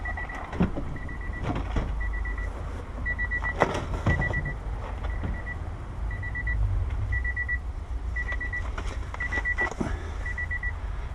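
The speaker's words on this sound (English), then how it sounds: "Very annoying beeping sound going on." Short electronic beeps repeat in quick pairs and triplets over a low, steady rumble, persistent and shrill, from a Nissan during key programming with a Lonsdor tool.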